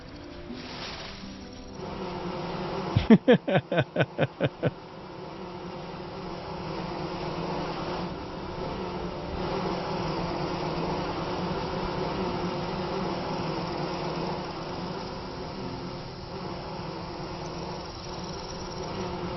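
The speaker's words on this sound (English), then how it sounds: "That's going to drive me nuts if I have constant audio problems with bees." Bees buzz close to the microphone in a steady, moderately loud drone that fills the whole stretch, with a brief burst of sharp clicks early on and no voices.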